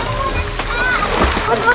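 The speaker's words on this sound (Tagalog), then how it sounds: "Tapos running water yung tubig. Continuous yun." Continuous running water splashes in a forest pool at Danum Baker in Baras, Rizal, a steady rushing wash heard nearby beneath a person talking.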